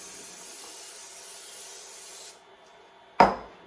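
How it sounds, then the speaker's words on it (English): Proofed bread rolls get sprayed on top: a soft, steady hiss runs for about two seconds, then after a brief quiet a sharp, loud spray burst cuts in near the end. "The rolls have proofed. You want to spray the top."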